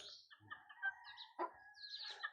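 A pet chicken makes soft, affectionate clucks and chirps close by. Short warbling calls repeat in a loose rhythm, and a voice speaks quietly at times.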